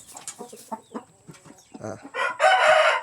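A mixed-breed fighting rooster crows loudly and close by, preceded by a series of short clucks and chirps from fowl.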